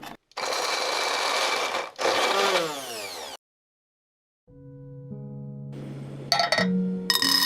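A small electric grinder grinding garlic and shallots whirs in two loud bursts, pauses, then runs again with a lower motor hum and some rattling.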